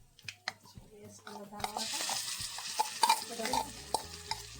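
Hot oil sizzles as tempering for kandi pachadi is stirred, a spoon scraping against a metal pan, with clinks and a bubbling crackle rising midway.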